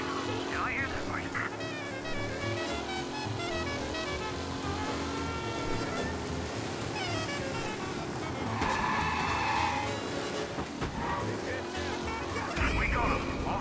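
A race car in the video game Mafia Definitive Edition skids with squealing tires and revving engine noise through a night-time city scene, with repeated screeches over a steady motor drone and voices talking throughout.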